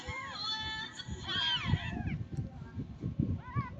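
Kittens meowing in a series of high, wavering calls, one drawn out and others short, close by over a low rumbling background with faint voices nearby.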